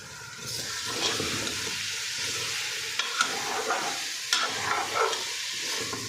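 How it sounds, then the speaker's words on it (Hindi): Spiced masala for aloo matar keema is stirred and roasted in a pan with a splash of water, giving a steady sizzle under repeated scraping strokes of the spoon, close and continuous with no voices. "अब हम यहाँ पर मसाले की अच्छी सी भुनाई कर लेते हैं"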